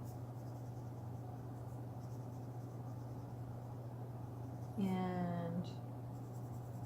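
Pencil shading on paper for a portrait drawing, a soft continuous scratchy hiss over a low steady hum, close and quiet, with a brief voice cutting in near the end.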